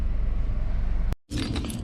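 Keys on a ring jangle close by while someone handles three keys inside a stored Honda S2000, a brief metallic rattle, then a short silence and more clinking and handling noise.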